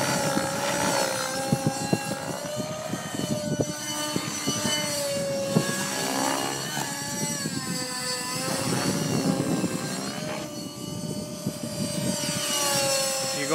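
A radio-controlled helicopter fitted with Edge 603 flybarless rotor blades flies nearby, its whining rotor and motor rising and falling in pitch as it manoeuvres, loud and continuous with no talk.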